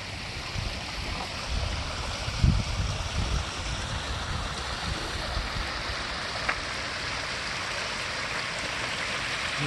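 Steady rush of water splashing and trickling over rocks in a small rebuilt garden waterfall at an arboretum, continuous and close, with no voices.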